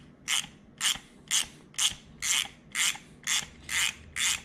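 Socket wrench ratcheting on the flywheel bolt of a Sunny Health & Fitness spin bike, eight evenly spaced bright rasping clicks in a steady rhythm, close and clear with no talk.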